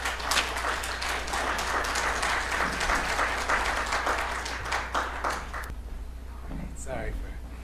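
Audience applause fills a conference hall at the Reginald F. Lewis Museum of Maryland African American History and Culture in Baltimore, dense clapping for about six seconds before cutting off abruptly, followed by faint room noise.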